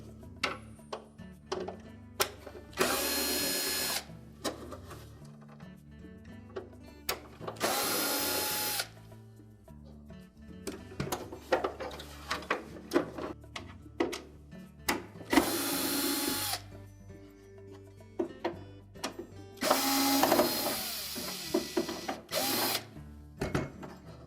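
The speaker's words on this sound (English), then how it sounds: "There are 4 Phillips screws, 2 on each side. So we'll start by taking those out." A power screwdriver backs Phillips screws out of a GE refrigerator ice bin cover, with several separate whirring bursts of a few seconds each, mixed with ratcheting clicks and handling noise between them at close range.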